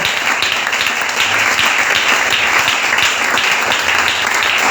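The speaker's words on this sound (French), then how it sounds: "Est-ce qu'on peut encore acclamer pour la gloire de Dieu? Acclamons très fort." A church seminar congregation claps loudly and continuously, a thick, close wall of applause that holds at an even level throughout.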